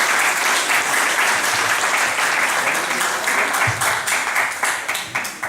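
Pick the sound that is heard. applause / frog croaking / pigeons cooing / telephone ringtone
applause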